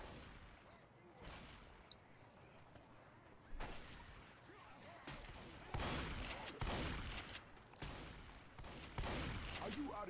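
Video game gunfire during a competitive scrim comes in bursts of rapid, loud shots, with heavier volleys toward the end, mixed with quieter background game noise.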